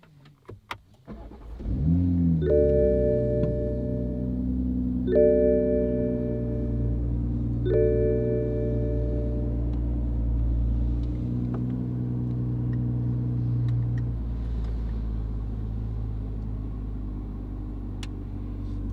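A Toyota Supra sports car engine cranks and catches, then settles into a deep steady idle with a few stepped revs and a low rumbling drone that carries on to the end, with no talk.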